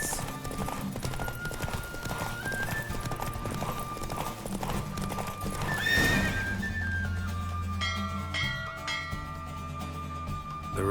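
Galloping hooves pound steadily during a horse race in The Witcher 3, and a loud whinny rings out midway over the music before the hoofbeats slow and fade.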